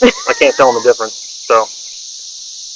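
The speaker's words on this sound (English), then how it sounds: "All that background noise you hear is cicadas." A steady, high-pitched buzzing drone of cicadas fills the background while someone speaks briefly over it.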